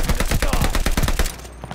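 Rapid automatic gunfire from a gun in the video game Vanguard, a loud burst of evenly spaced shots lasting over a second before cutting off, with a faint trailing echo.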